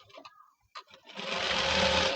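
An electric sewing machine stitches the double piping on a blouse, starting after a few soft handling noises and then running as one continuous, close, steady whir.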